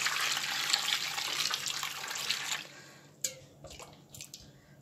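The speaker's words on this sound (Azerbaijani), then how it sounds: "İndi üzərinə qaynar su tökürəm." Boiling water pours steadily from a kettle over tomatoes in a bowl, a continuous close splashing rush for a few seconds that then stops, leaving scattered drips and light clinks.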